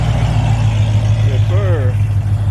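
Cars rolling into a Cars and Coffee car show in Cypress, a steady low engine rumble of idling and slowly moving vehicles close by, with voices briefly rising over the drone.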